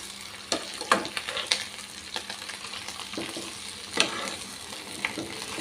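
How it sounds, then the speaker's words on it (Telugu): Gongura pickle frying in oil as it is stirred, with a steady sizzle and periodic scraping of the spoon against the pan, sharper clinks near the start and middle; no talking. "ఆయిల్లో ఫ్రై అయ్యేలాగా తిప్పుకుంటూ ఫ్రై చేసుకుందాం"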